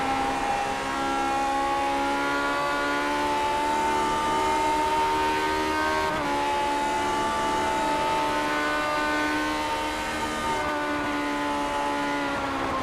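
Vintage Indy race car engines scream in the iRacing sim at Indianapolis, a loud, steady high-revving drone that holds nearly constant for the whole stretch with one brief pitch shift midway, no voices.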